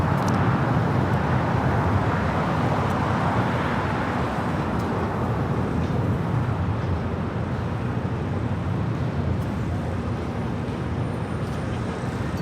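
An airliner takes off at Los Angeles LAX, a broad steady roar that stays loud throughout and fades slightly toward the end, heard from a distance with no talking.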